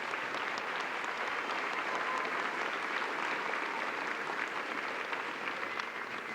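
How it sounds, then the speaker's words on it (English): Steady, dense applause from an audience at a school National Honor Society induction ceremony, many hands clapping continuously at an even level throughout with a faint murmur of the crowd beneath. "this applause is for you"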